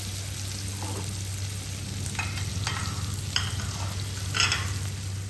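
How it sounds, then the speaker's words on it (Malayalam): Chopped garlic and small shallots sautéing in melted butter for garlic butter prawns: a steady low sizzle with a constant hum beneath, broken by a few scraping stirs of a utensil in the pan, with no talking. "അപ്പോൾ ആ ചെറിയ ഉള്ളിയും വെളുത്തുള്ളിയും ബട്ടറിൽ കിടന്ന് നന്നായിട്ട് മൂത്ത് വരുന്നുണ്ട്."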